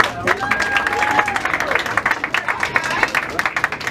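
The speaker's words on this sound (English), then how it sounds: "please give them a round of applause" An audience at a political campaign event applauds an office team: brisk, close clapping runs throughout while voices carry over the top.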